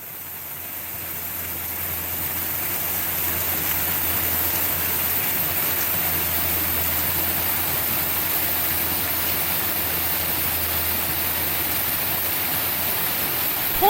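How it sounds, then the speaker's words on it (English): The lower falls at Uvas Canyon, a waterfall about 25 to 30 feet high flowing strongly in summer, make a steady broadband rushing roar that swells slightly and then holds even. "there's plenty of water in this waterfall"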